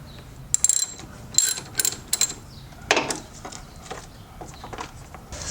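A hand wrench ratchets on bolts of a Honda motor in several short bursts of clicking, close and moderately loud, separated by quieter pauses with a brief louder scrape near the middle.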